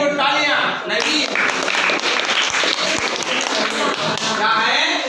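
Classroom applause for a student, a dense patter of clapping hands that fills the room steadily from start to finish and stays close and fairly loud throughout.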